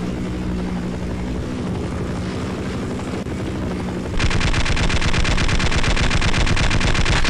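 Helicopter rotor drone with rapid machine-gun fire in the video game Half-Life: Azure Sheep, a steady loud whir that turns into dense, continuous gunfire bursts partway through.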